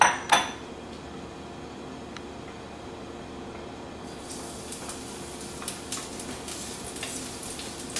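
Garlic dropped into hot extra virgin olive oil in a pan, a soft steady sizzle with a few close clinks of pan and utensil at the start and scattered light knocks later.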